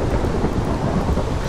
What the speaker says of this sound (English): I hope the rain stops very soon